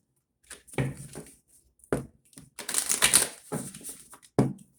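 Crisp papery riffles and soft slaps of tarot cards being shuffled, several short bursts with pauses between, close and fairly quiet, no talking.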